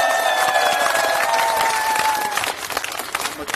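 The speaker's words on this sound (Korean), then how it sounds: "한병도 의원님께 다시 한번 뜨거운 박수 부탁드리겠습니다." Audience applause at a political rally in Gunsan, South Korea: a dense, loud wash of many hands clapping that runs the whole time and thins slightly toward the end, with a faint tonal hum underneath.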